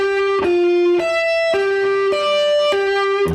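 A clean, sustained electric guitar plays a riff, bright picked notes ringing in a steady looping pattern with fresh attacks about every half second.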